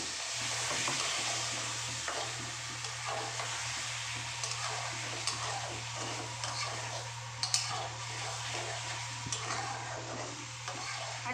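Rohu fish curry with ridge gourd, potato and turmeric being stirred in a pan with a little water, giving a steady sizzling hiss with scattered scraping clinks of the spoon, alone and fairly quiet throughout.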